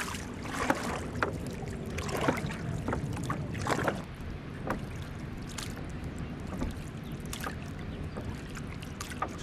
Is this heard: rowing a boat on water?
yes